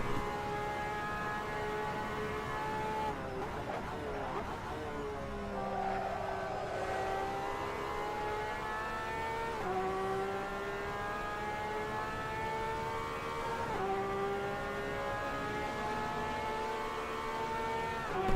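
LMP prototype race cars scream past one after another on the Monza front straight in Assetto Corsa, high-pitched engine notes sweeping up and down in pitch as each car approaches and fades, loud and continuous with no talk.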